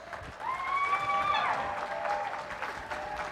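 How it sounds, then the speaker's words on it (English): Audience applause at an opening ceremony, a steady wash of clapping from a large crowd heard at moderate distance, partly overlapped by cheering voices. "Don't applaud me."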